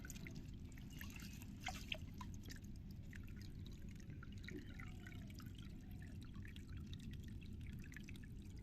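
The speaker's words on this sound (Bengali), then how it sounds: "এইগুলোকে আপনার হচ্ছে আস্তে আস্তে করে জল দিয়ে ভরতে হবে" A thin stream of water trickles and drips steadily into a lotus tub, faint and continuous over a low background rumble.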